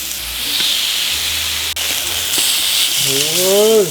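Korean-style marinated pork sizzling on a grill, a steady loud hiss with a rising whine near the end.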